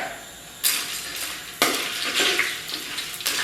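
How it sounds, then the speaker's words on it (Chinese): Rock sugar stir-fried in oil in a wok for caramel: a low sizzle under sharp scraping strokes of a spatula against the metal, three or four distinct pushes spaced across a few seconds. "咱们先简单炒个糖色"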